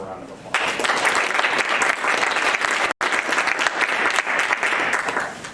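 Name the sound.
applause at a school board meeting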